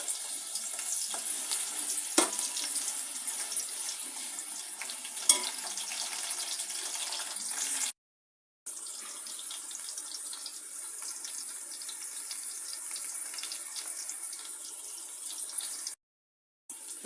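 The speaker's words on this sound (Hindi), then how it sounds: "अब मैं इसमें डालूंगी प्याज और प्याज को हल्का सा फ्राई करना है" Onions fry gently in warmed oil for a chicken pulao, making a steady faint sizzle and hiss with a couple of small ticks and two brief silent gaps.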